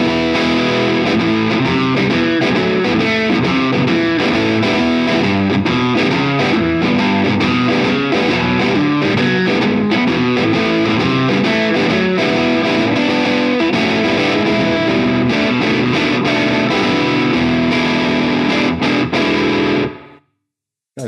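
Distorted electric guitar played through a Diezel VH Micro head with reverb, a continuous riff of full, saturated chords and notes ringing out before stopping abruptly.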